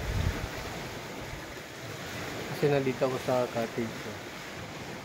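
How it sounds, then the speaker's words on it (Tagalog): Sea waves roll and wash on Holiday Beach in Leyte in a steady rumbling surge with wind blowing across, and a voice speaks briefly partway through. "Ito ang dagat, guys."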